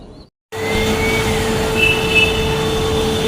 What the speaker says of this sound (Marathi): इथे आहे बेलापूर स्टेशन